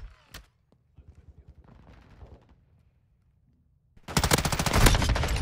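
Gunfire in Call of Duty Modern Warfare II: scattered single shots and quieter pops early on, then a loud, rapid machine-gun burst erupts for the final second and a half.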